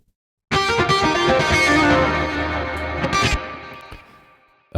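A loud, heavily distorted electric guitar chord rings out, sustaining and slowly decaying, with a brief scrape near the end.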